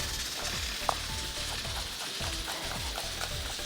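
Chicken frying over a high flame, a dense continuous sizzle with rhythmic stirring scrapes, close and steady for a few seconds.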